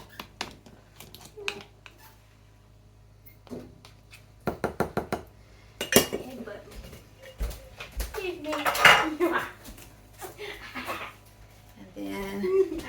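A utensil scrapes and clatters against a mixing bowl in a home kitchen, sharp clinks and rubbing strokes in bursts, fairly close, with occasional talk between them.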